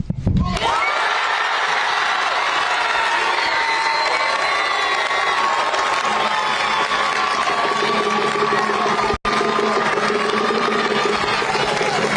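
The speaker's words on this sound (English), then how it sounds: "What a response out of this crowd" A loud crowd roars and cheers without pause after a basketball player announces his college commitment to Duke at a live event, the dense, steady noise running for about twelve seconds and dropping out for an instant near the end.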